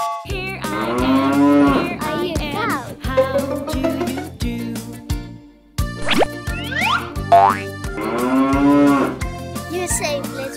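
A toy cow in a choo choo train animal toy set plays repeated electronic moos over a bouncy, rhythmic jingle, loud and close with no talking.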